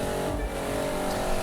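Car engine in the video game The Crew 2 pulling hard in fourth gear, a steady loud droning roar that holds and climbs slightly over the short stretch.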